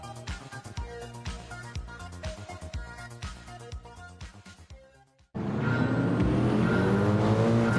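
Race cars in a racing video game at Grand Valley Speedway, with music first and then a loud, sustained engine drone with rising harmonic sweeps from about five seconds on.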